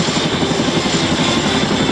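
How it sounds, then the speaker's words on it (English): Attack helicopters flying over an air force open house at Paya Lebar Air Base, Singapore, give a steady, loud rotor and engine roar that fills the whole stretch without a break. "the attack helicopters, which have been patrolling the battle, moves into position to maintain air cover over the battlefield"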